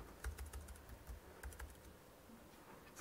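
Rapid keystrokes on a European-layout computer keyboard, typed in quick irregular bursts with brief pauses, close and clear with no voices.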